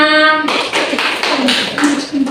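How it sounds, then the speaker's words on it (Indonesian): Children in a class clap their hands for a classmate named Ina, a brisk scattered patter that follows a brief spoken line from an adult and carries on to the end. "tepuk tangan buat Ina"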